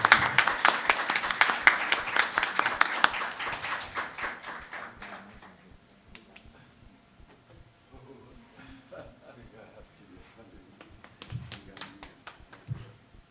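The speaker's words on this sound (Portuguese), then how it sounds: "Aplausos fartos para o poeta Nabuth." An audience at a literary lecture at a Minas Gerais letters academy claps loudly for a poet, then the applause thins out to scattered claps and fades as talk begins.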